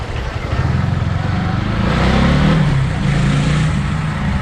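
A Speeder NSX165R motorcycle engine runs loud and close with a steady low throb that swells slightly in the middle, rumbling continuously throughout as the bike is parked.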